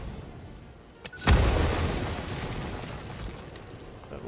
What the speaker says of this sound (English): That was a good explosion.